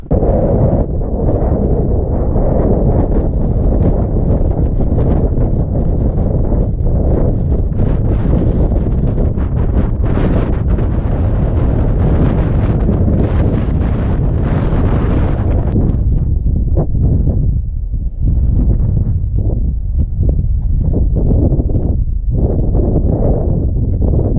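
Strong wind roars and buffets continuously on a mountaintop, loud and close, with heavy gusts battering the microphone before easing slightly toward the end.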